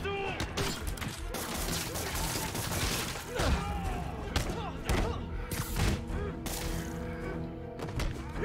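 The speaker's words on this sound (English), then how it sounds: "All the web bombs." Web bombs going off in Marvel's Spider-Man on PS4, a busy stretch of repeated thuds, impacts and crashes layered with game music and effects.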